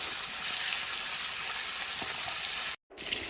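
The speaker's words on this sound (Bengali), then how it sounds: "একে একে সব মাছগুলো ভেজে নিচ্ছি।" Bata fish, washed and coated with turmeric and salt, sizzle and crackle in hot oil, a loud, steady frying hiss close up that cuts out briefly near the end.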